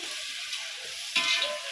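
Tomatoes sautéing in oil in a pan for biryani, a steady soft sizzle with a brief louder hiss as the pan is stirred.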